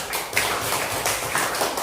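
A classroom of students claps hands in a short burst of scattered, fairly close clapping lasting under two seconds.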